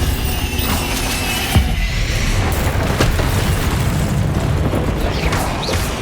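Bombarda spell blasts in the video game Hogwarts Legacy, a dense rumbling boom with a sharp burst near the start and a sustained crackling, roaring wash of game effects alone without speech.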